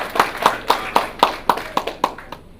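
An audience at an underground art event claps in a steady, even rhythm, about one clap every quarter second, close and fairly loud, with no talking.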